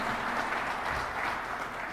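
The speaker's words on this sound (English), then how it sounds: "This will be a good time to applaud" Steady, dense applause from an audience at a General Motors event announcing investment in its Lockport plant for electric vehicle production, filling the whole two seconds at an even level with no talking over it.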